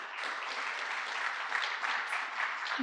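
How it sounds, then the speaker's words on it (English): Audience applause at a business panel event in Los Angeles, a steady wash of many hands clapping that holds for nearly three seconds without voices. "let's just give them a round of applause"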